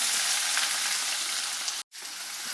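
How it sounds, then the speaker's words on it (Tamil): Chopped small shallots fry in hot oil for a kara chutney, giving a loud, close, continuous sizzle and crackle that cuts out for a split second before resuming. "சின்ன வெங்காயம் சேர்த்து நல்லா வதக்கிடுங்கம்மா."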